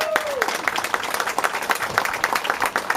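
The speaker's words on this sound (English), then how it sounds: "Let's have a round of applause for Mike." An audience applauds at an outdoor Labor Day parade gathering, a dense wash of steady clapping filling the moment, with a brief rising tone near the start and faint voices mixed in.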